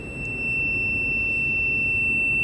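A 60 kVA BPE UPS sounds its alarm buzzer, a steady high-pitched continuous tone over a low electrical hum. It holds unbroken throughout, with no talking.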